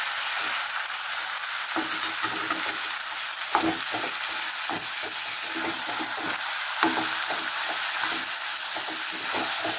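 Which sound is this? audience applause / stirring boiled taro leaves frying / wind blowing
stirring boiled taro leaves frying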